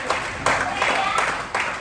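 A small group claps in a classroom, a few bursts of hand clapping overlapping with speech, fairly close and loud.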